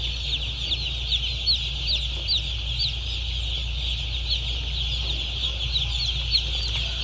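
Day-old chicks just hatched, crowded in a basket, cheeping constantly in a dense, high-pitched chorus with a steady low hum beneath, no talk.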